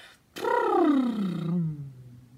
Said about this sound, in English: Have a little brrr, loose lips if you can.